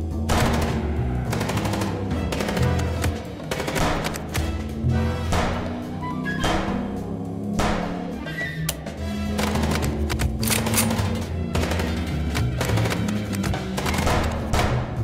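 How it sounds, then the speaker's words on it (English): Rapid gunfire bursts from the Chicken Police video game as a player shoots at a car's tires, loud, sharp volleys repeating steadily over a dense, continuous music and engine bed. "Let's just shoot the tires"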